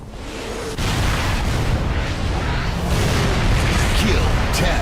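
Video game artillery strike explosions roll in as continuous loud booming rumble, a sharp onset near the start followed by sustained dense blasts with game voice callouts mixed in.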